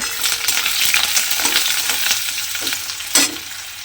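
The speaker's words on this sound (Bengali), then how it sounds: "সেই পেঁয়াজটা আমি তেলের মধ্যে দিয়ে দিলাম। দিয়ে পেঁয়াজটা আমি একটু লাল করে ভেজে নেব।" Chopped onion frying in hot oil, a loud close sizzle with repeated stirring scrapes and clatters of the spoon, continuous and without talk.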